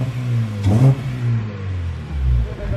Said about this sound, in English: When you rev it, it revs smoother, it revs quicker.